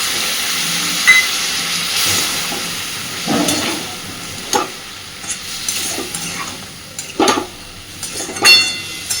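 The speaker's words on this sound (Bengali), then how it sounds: "দিয়ে দিচ্ছি সামান্য একটু শিল ধোয়া জল।" Water used to rinse a grinding stone is poured into a frying vegetable curry of milk pumpkin with green chilies and ground ginger, giving a sharp steamy hiss and sizzle with intermittent stirring scrapes and clatters, loud and close.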